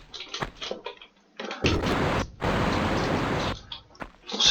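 Rushing water fills a room in the cistern level of the original Tomb Raider video game, a loud noisy gush that starts suddenly, briefly cuts out, then continues before stopping.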